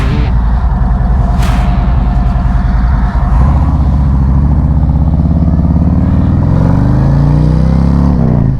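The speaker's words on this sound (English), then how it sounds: "I'm back on the bike today, testing out the head pipes" A motorcycle fitted with Bassani head pipes rides through warm weather around Charlotte, North Carolina. Its exhaust rumbles loud and close the whole time, with a steady low drone that rises as the bike accelerates. No one speaks.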